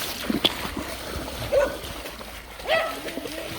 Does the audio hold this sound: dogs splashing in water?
yes